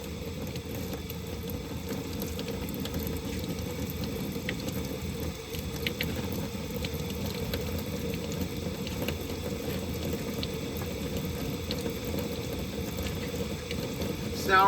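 A soapy fan blade being rinsed under running water, a steady continuous wash of spray that stays even and fairly close throughout with no break.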